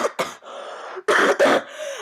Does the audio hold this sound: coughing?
yes